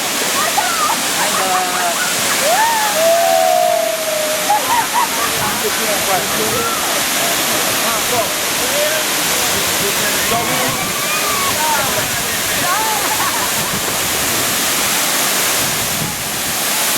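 Constant roaring rush of Kintampo Waterfalls in Ghana, loud and close, with voices talking and calling out over it.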